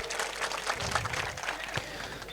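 Loud, continuous applause from an audience honoring a revered mutt seer, dense clapping sustained throughout with a crowd murmur underneath.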